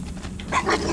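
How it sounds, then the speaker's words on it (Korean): A dog in Fallout: New Vegas gives one short growling bark over game background noise. "댕댕이"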